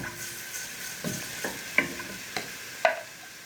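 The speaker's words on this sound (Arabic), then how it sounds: "احط شوية زيت حلوين كده في الحلة، وهضيف البصل بتاعي" Onions frying in oil in a cooking pot for Egyptian moussaka, a soft steady sizzle broken by several scraping stirs of a spoon, close and moderately loud.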